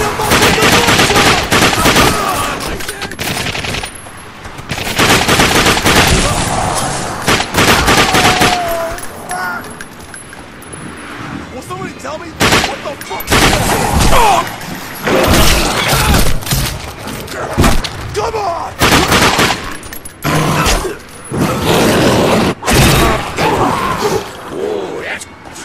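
A loud shootout in the game The Darkness 2, with dense, sustained gunfire bursting almost continuously and shouted voices mixed through the chaos.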